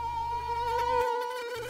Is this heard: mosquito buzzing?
yes